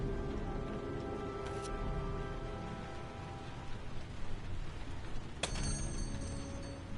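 Rain falls steadily in a video game scene, a soft constant patter on surfaces with a couple of brief sharp clicks, and no voices.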